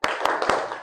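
Group attendance clapping of the tepuk absen kind at a counselling training session in Banda Aceh: four sharp, fairly loud claps spaced evenly about a quarter second apart over a steady room murmur.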